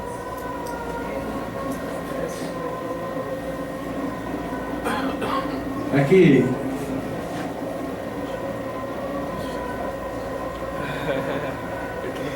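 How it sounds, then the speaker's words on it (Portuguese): Metro train wagons roll past with a steady grinding hum of steel wheels on rail, no motor noise, swelling briefly louder midway; a person speaks briefly over it. "só os vagões estão passando. Não tem mais o ruído do motor, mas tem do atrito com a roda, da roda com o trilho."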